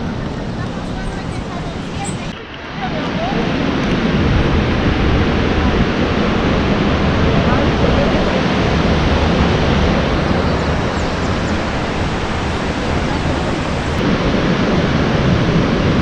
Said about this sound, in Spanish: Vean qué imponente cascada, muy bella.